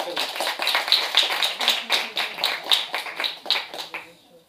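A French audience claps in a steady, rhythmic patter of hand claps that fades out near the end, with voices faintly mixed underneath.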